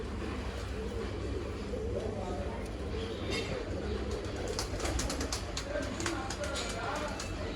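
Pigeons coo softly in the background at a bird sale in Bangalore, low murmuring calls that sit under steady ambient noise while people talk.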